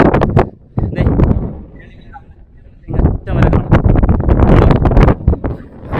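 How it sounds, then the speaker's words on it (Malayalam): Strong wind buffets the microphone on a misty hilltop in Kanyakumari, loud gusting rumbles that come and go in bursts, with a lull in the middle. "നല്ല കാറ്റുണ്ട്."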